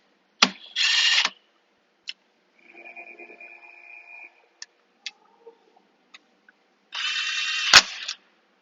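Cordless tool snugging bolts on a 2016 Nissan Altima CVT during a rebuild, two short whirring bursts about six seconds apart with a faint hum and scattered clicks between them.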